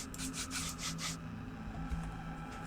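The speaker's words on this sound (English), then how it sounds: "Oh, I haven't rubbed the genie lamp yet." Rubbing a genie lamp in a video game produces a rhythmic series of five short swishing scrapes, moderately loud, over a steady low game soundtrack.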